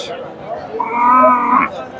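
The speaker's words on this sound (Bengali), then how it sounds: "জার্সি গাভী" A Jersey cow at a busy rural cattle market gives a single drawn-out moo of about a second, loud and close, over faint background crowd murmur.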